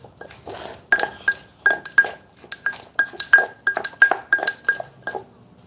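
A mother works green papaya salad in a mortar with a pestle. Close, sharp clinks and knocks come in a quick, steady rhythm of roughly three per second, with no voices.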